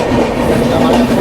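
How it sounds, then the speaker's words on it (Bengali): The Howrah–Secunderabad Falaknuma Express rushes past at speed in India, a loud, steady roar of rolling wheels and rail noise filling the moment. "দেখতেই পাচ্ছ আমাদের সামনে দিয়ে হাওড়া সিকিন্দ্রাবাদ ফলকনামা এক্সপ্রেস এই মুহূর্তে ছুটে চলেছে।"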